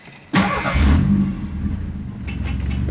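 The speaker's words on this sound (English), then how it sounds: "Might as well do it with the car running." An old sports car left parked for 35 years cranks and fires up suddenly, then settles into a loud, rough, rumbling idle close by.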